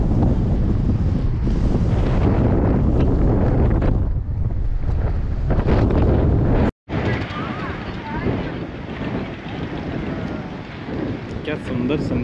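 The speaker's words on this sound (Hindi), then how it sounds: "पता नहीं आवाज़ आ रहा है कि नहीं, बहुत तेज़ हवा चल रही है." Strong wind at a seaside sunset point buffets the microphone with loud, continuous roaring gusts, cut off briefly by a short dropout midway, with surf faintly underneath.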